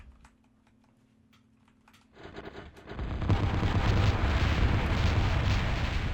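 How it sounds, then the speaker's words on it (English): Phalanx gun shredding bombers in Total Annihilation Escalation: after a quiet stretch of faint clicks, a loud, dense roar of rapid fire and explosions swells up and holds steady to the end. "That right there was the phalanx absolutely shredding those bombers."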